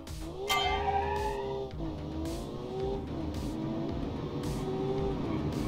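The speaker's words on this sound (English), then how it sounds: "It's a straight 6 engine" An upgraded 1940s straight-six car engine in a racing game on the Pikes Peak hill climb pulls hard, rising through revs with gear changes and a brief tire squeal, loud and close, no talking.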